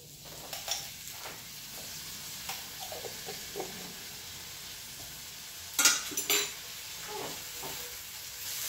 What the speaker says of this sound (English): So I'm gonna let these saute for a minute